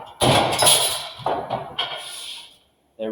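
A metal shear cuts sheet metal in a shop, giving a loud clanging stroke followed by a few fainter metallic thumps and a ringing decay, then a brief silence before another sharp onset.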